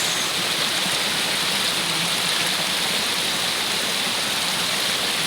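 Heavy rainwater rushes down a sloped footpath during a downpour, a steady, loud, unbroken wash of hiss and churning flow with no pauses, filling the whole span close to the microphone.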